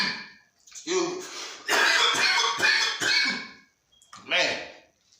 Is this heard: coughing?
yes